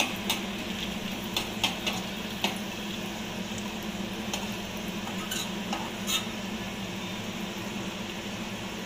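Garlic frying in oil in a pan for a surmai fish curry, a steady close sizzle with occasional sharp clicks of stirring.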